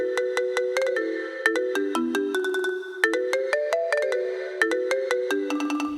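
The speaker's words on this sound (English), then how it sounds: "The melody over top of everything is on marimba, which gives everything a very Mario RPG sound." A bright marimba carries a bouncy melody in a style reminiscent of Mario RPG music, with quick struck notes layered in fifths and occasional trills, clear and up front over a sparse backing.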